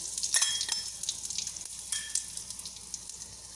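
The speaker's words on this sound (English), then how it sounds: "let us start with the tempering, that is mustard, haldi and hing" Mustard seeds, turmeric and hing tempering in two spoons of hot oil, a steady close sizzle with bright crackles and pops throughout and no talking.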